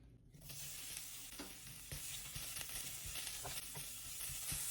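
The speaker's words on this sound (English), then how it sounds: "Gonna add a couple tablespoons of olive oil, and then right in with the onion." Onion dropped into olive oil in a hot pan on medium heat, a sudden onset of crackling sizzle that keeps going steadily with occasional stirring taps, close and without speech.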